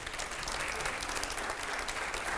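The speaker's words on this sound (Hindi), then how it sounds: "अब जरा जोरदार तालियां हो जाए अगले सवाल के लिए" An audience claps steadily throughout, a dense wash of applause at moderate volume without any voices.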